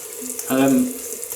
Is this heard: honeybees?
no